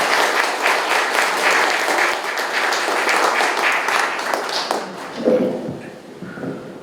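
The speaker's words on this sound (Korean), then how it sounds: "큰 박수로 앞으로 모시겠습니다." A lecture-hall audience at a Korean security lecture applauds steadily to welcome a professor to the stage, dense clapping filling the room, thinning toward the end.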